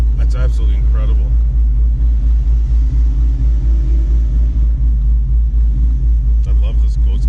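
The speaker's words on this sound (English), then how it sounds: "I love this ghost cam mode." An 800R twin-turbo Ford GT350 in ghost cam mode rumbles with a loud, deep, steady idle pulsing low and close, while people talk over it at the start and end.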